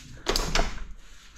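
A door opening or closing inside a caravan, a short clunk and rattle with a second knock right after, close and fairly soft, fading into quiet.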